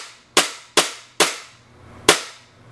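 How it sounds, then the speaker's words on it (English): A WE-Tech 1911 gas airsoft pistol fires four sharp, close pops on pure gas with no BBs loaded, three evenly spaced and a fourth after a short pause, each followed by a quick decaying hiss. "I'm running pure gas right now. So you'll see a few shots will work."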